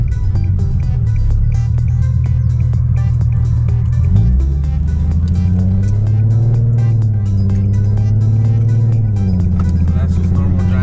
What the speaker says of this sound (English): now it just has this very nice, distinct exhaust tone